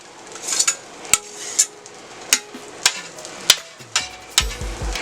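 Jambalaya scraped and pushed across a Steelmadeusa steel griddle: a series of metallic scrapes and clanks of a spatula at a steady beat, with a faint sizzle under them and some knocking near the end.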